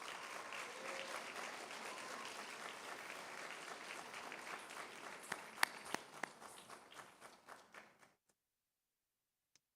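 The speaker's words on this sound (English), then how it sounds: "Let's give her a big round of applause." An audience at an Arangetram dance recital breaks into applause, a steady dense clapping that thins to scattered individual claps before stopping abruptly into silence.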